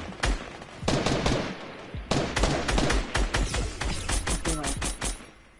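Repeated gunfire in a PS4 shooter match, with sharp shots and bursts cracking loudly across the clip at an irregular rhythm, several close together, with no voices.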